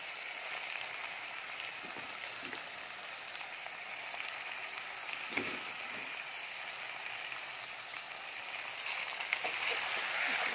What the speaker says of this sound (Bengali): হোপাটাকে আমি ভালো করে কষে নেবো